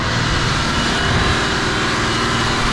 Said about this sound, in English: If you guys see that helicopter, it's right above us.